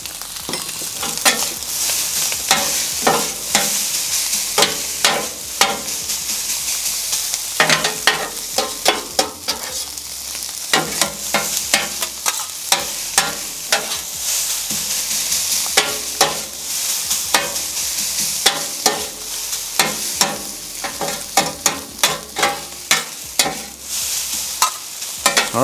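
BBQ fried rice with green onions sizzling steadily on a flat-top griddle, loud and close, with frequent sharp scraping and clacking of a spatula stirring and tossing the rice throughout.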